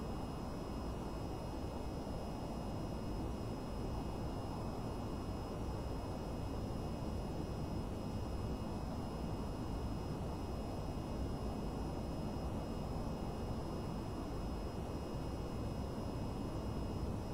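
A fighter jet engine at full afterburner in the VTOL VR flight game gives a steady, unbroken roar of broadband noise. It is fairly faint and constant, with no voices over it.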